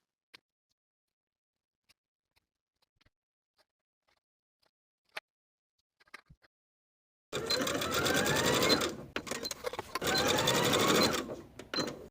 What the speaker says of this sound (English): baste both ends of the elastic in place